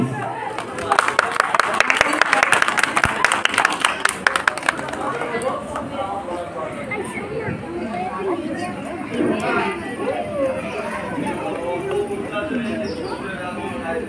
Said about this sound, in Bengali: আপনারা করতালি দিন।